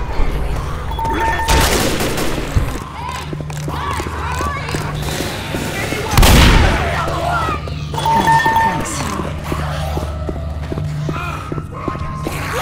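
Bursts of gunfire from Left 4 Dead, loud and close, with heavy shots around the middle over a steady hum and scattered game noise.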